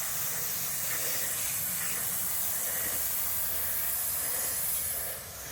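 A continuous close, loud hiss of aerosol spray coats rear brake parts for several seconds before easing off.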